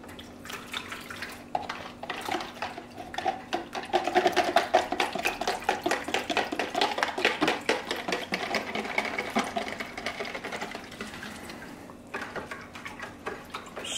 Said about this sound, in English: Stir that around some more, making sure all the solids are dissolved.